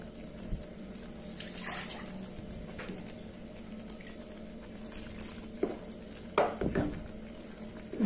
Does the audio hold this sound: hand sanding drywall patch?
no